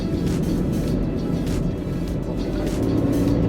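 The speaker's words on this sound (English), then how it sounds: "The exhaust note at higher RPMs is not very sporty but sounds crude." Tata Altroz turbo petrol hatchback driving with its engine at high revs, a continuous loud, rough drone and road roar from inside the car, fairly constant throughout.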